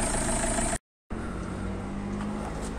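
A Peugeot 307 HDi diesel engine idles with a steady, even hum close by, interrupted by a brief moment of silence before resuming smoothly.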